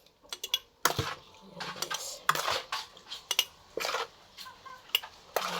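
Sweet pickled mango being spooned into a clean sterilized glass jar, giving a run of light clinks, taps and scrapes of utensil on glass at close range, irregular and fairly quiet.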